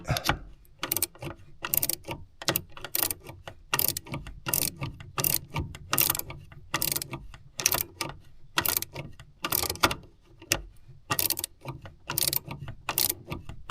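A ratchet wrench clicks in steady, rapid bursts while tightening a rear shock absorber bolt on a BMW E90, the close, sharp clicking repeating rhythmically through the whole stretch with no talk.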